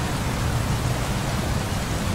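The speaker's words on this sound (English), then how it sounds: "It's actually raining." Steady rain in Bus Simulator 18 hisses evenly throughout, a dense, continuous downpour with no breaks and no voices.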